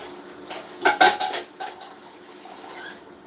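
Dishes and cutlery are rinsed with a brief clatter of metal and crockery clinks clustered early, followed by softer knocks and faint water noise, close and alone without speech.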